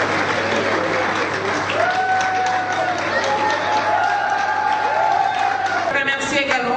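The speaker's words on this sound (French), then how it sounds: "vous prie de les applaudir chaudement" Audience applauding warmly at a French event as people stand, continuous clapping with a voice speaking over it for much of the stretch.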